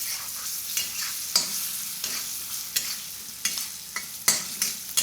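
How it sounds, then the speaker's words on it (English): Finely chopped onions and nuts fry in a pan for lemon rice, with a low sizzle under repeated sharp scrapes and knocks of a spoon stirring every half second or so. "Give it all a stir."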